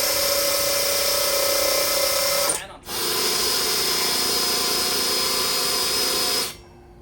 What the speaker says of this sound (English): Countersink the holes so that the screws fit in so they don't stick out on the metal.